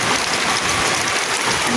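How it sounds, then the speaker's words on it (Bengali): Steady, dense hiss of rain falling, constant and even throughout with no voices. "প্রতিদিনই বৃষ্টি নামতেছে।"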